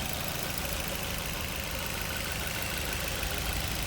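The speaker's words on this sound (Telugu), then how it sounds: "ఇంజన్ చూడండి చాలా చాలా సైలెంట్గా ఉందండి," A Maruti Brezza ZXi+ engine idles steadily and evenly, a constant close-up hum and hiss with no talk over it.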